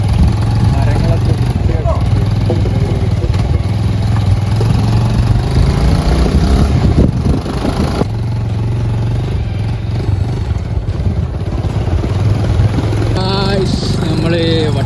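A motorcycle engine runs close by during a trek through wooded hill country in Vattavada, a rough continuous rumble with some clatter, loud throughout, while people talk over it.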